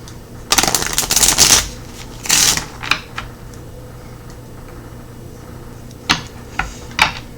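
Tarot cards are shuffled up close in a few quick riffling bursts, followed by scattered soft taps and snaps of cards against a quiet room background.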